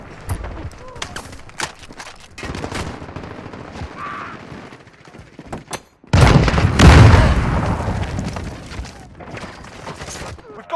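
Call of Duty: Modern Warfare cruise missile strike: scattered gunfire and booms build to a heavy, loud explosive blast midway, followed by a sustained rumbling roar, with game voices talking over the battle.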